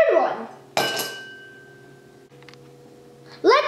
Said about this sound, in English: Let's take three ice cubes and put it into the glass.